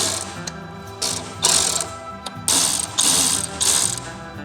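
A ratchet wrench clicks in repeated short, close bursts while tightening bolts on lower fairings of a 2025 Harley-Davidson Road Glide, with brief pauses between strokes and no talking.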